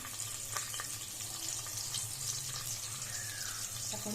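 Chopped medium onion frying in hot oil with spices, a steady close sizzle running throughout with faint scraping of stirring.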